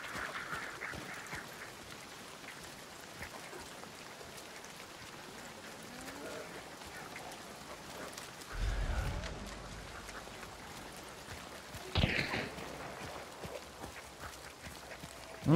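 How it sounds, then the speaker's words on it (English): Startled ducks in Hunt: Showdown, faint quacking and flapping that rises in a brief flurry midway and again later, over steady rain-like game ambience, with a voice talking quietly at points. "someone just scared the birds from the other side."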